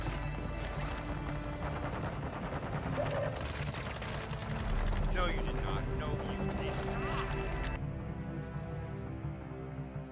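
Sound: Sakin MG38 machine gun firing in video game Warzone 2

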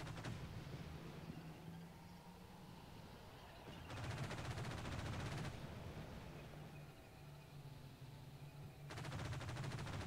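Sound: gunfire from infantry and vehicles in video game Combat Mission: Shock Force 2

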